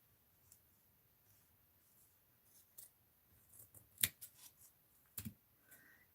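Scissors cut paper for a mixed-media art journal in a quiet room, making a few soft, close snips in an irregular rhythm, with one crisper cut standing out.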